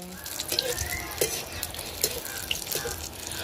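Jaffna karthigai appam frying in hot oil: a steady, close sizzle of bubbling oil, broken by small pops and crackles that recur throughout.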